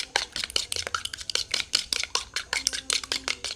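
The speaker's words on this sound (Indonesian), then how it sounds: "Selanjutnya kita kocok lepas 1 butir telur." One egg is beaten in a bowl, a quick run of light clinking strokes close by. The taps are rapid and even, each one sharp and brief, with no voices over them.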